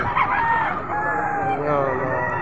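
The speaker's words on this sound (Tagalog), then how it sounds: "Ang manok nito, ayan." A rooster crows once in a drawn-out, strained call at a cockfighting-fowl sale in Padre Garcia, Batangas, close and loud over background crowd murmur.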